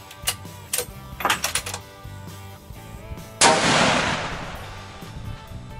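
Rifle shots with sharp metallic pings of bullets striking a steel target at a shooting range, a few scattered cracks followed by a louder sustained burst of impacts, fairly close, with no talking.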